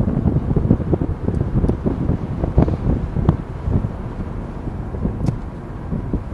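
Wind buffets the open sunroof of a car driving through winter countryside in February, a constant low roar with irregular gusty thumps close to the microphone and no voices.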